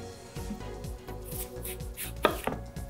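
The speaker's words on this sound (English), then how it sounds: "So my favorite way to chop apples for this recipe is to first cut around the core" An apple being chopped with a knife on a cutting board, a quick run of regular, close knocks of the blade on the board, ending with a couple of sharper, louder cuts.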